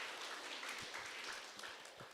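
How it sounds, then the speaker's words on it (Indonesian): A church congregation applauds together in a worship service, a soft, steady wash of many hands clapping at a distance with no break and no voices rising above it. "Tepuk tangan bagi Tuhan ini."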